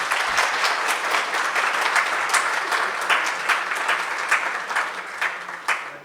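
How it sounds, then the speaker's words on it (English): A conference audience applauds its panelists after a career development session, a sustained, dense clapping from many people with individual claps popping through and fading slightly toward the end. "Can I have a round of applause for our panelists?"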